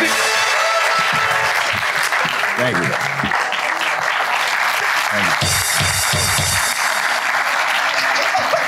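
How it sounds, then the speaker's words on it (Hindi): A studio audience applauds loudly and steadily on a Pakistani talk show set, with dense continuous clapping that fills the whole stretch at close range and a few voices faintly beneath it. "तालियां यार"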